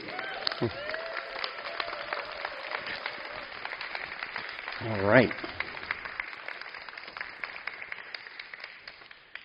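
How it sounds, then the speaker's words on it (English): An audience claps steadily in a scattered patter while a voice speaks briefly over it; the applause gradually thins out. "A big round of applause"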